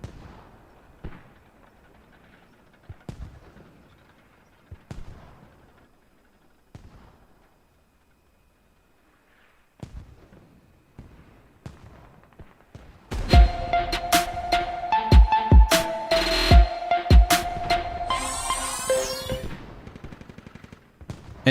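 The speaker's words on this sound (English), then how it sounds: "MEA set up another mortar just to start hitting them" Heavy gunfire and explosive blasts from mortar fire in a multiplayer shooter game, faint scattered shots at first, then a loud dense burst of booms and rapid fire in the second half.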